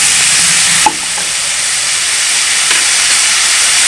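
Fried rice with ground meat stir-fried in a hot pan, a loud continuous sizzling hiss with a sharp clack of a utensil near the start and faint scraping stirs, no talking.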